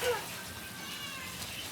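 A Persian cat gives a single short meow right at the start, fairly faint, then only low background noise follows during a cage-cleaning and bath session.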